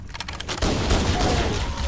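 Gunfire in Halo: Combat Evolved from the Master Chief Collection: a brief quiet lead-in, then a sudden dense, sustained burst of rapid shots and explosive noise that fills the rest of the moment.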